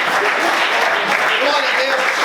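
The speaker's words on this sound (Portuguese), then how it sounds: "Você pode aplaudir o Senhor por isso?" Congregation in a church applauding, a steady dense wash of clapping across the whole moment, with faint voices carrying through underneath.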